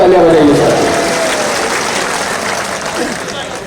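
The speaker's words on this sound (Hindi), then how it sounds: "एक बार जोरदार उनके लिए तालियां बजाइए सर।" A large crowd at a protest rally in Bhopal claps steadily in a dense, broad wash of applause that starts loud and fades slightly, with a voice speaking over it at the start.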